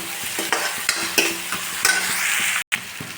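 Chicken pieces and onions sizzle steadily in a hot pan while a spoon scrapes and stirs through them in repeated strokes, close and loud, with one brief gap.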